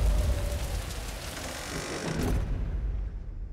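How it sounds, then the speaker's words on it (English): Steady rain falling in a suspense thriller movie teaser, a dense broadband hiss with low rumble, fairly loud and continuous before thinning out near the end. "You got to hear the rain falling"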